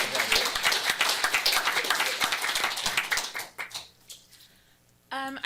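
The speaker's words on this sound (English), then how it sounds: "Give him a round of applause." A council chamber audience at a city council meeting claps for several seconds, dense applause that thins out and fades near the end before a voice comes in.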